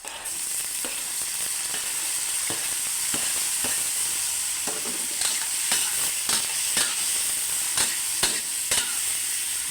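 Tomatoes frying in a pan for pork kaldereta, a steady loud sizzle and hiss with intermittent scraping stirs of a utensil, no voices.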